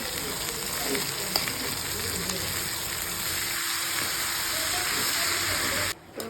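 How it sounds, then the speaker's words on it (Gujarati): Corn chevdo with tomatoes and chillies sizzling in a pan, a steady broadband frying hiss held close and fairly loud for several seconds before a brief drop near the end. "મકાઈનો ચેવડો સરસ રીતે ચડી રહ્યો છે."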